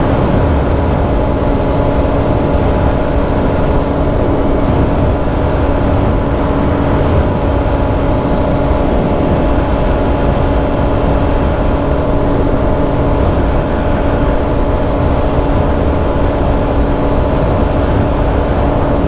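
A 2018–2019 Kawasaki KLX250 with 13/50 gearing runs at full throttle in sixth gear on a flat road, its engine a steady, loud, unbroken drone mixed with wind rush, and no one talks.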